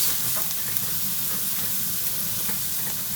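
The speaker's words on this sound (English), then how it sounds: "I'm starting off with the onions first. We're just cooking them until they are a little bit soft." Onions cooking in a pan until soft give a steady, bright sizzle and hiss that stays even and close throughout, with no voices.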